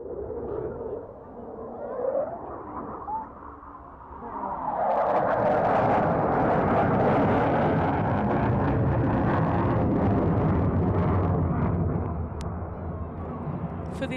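An RAF Typhoon jet at Farnborough Airshow, a quieter rumble swelling after a few seconds into a sustained, loud, rushing jet roar that holds steady before easing slightly, with a voice heard early on.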